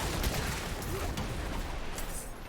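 Artillery shrine firing in Diablo 4, a dense continuous fusillade of rapid gunshot-like blasts filling the whole stretch at steady loudness, with no talk over it.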